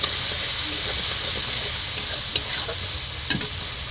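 Onion and ginger paste frying with turmeric and spices in a pan for a fish dish, a loud continuous hissing sizzle with a few brief scraping stirs, no talking.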